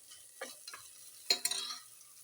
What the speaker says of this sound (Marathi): हा मसाला आपला कच्चा राहणार नाही शिजला जाईल